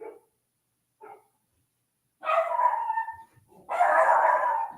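An indoor dog barking from another room: two short faint yips, then two longer, louder howling bark bursts, muffled and somewhat distant, with no talking.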